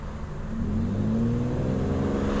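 A car engine revs and holds steady as gas is fed at half clutch during a driving lesson, a continuous mid-pitched drone that climbs slightly in pitch and stays fairly loud and close.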